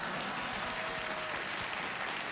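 A late-night talk show studio audience applauds, a continuous, even wash of clapping that stays at a steady level throughout, heard fairly quietly and alone.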